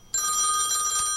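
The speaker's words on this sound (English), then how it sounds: "immediately the phone rang" A telephone rings in a cabin with a loud, close, continuous electronic bell trill that starts abruptly and holds steady for about a second.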